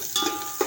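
Sliced onions for chicken biryani sizzle in hot oil, giving a steady hiss with a couple of sharper stirring spatters.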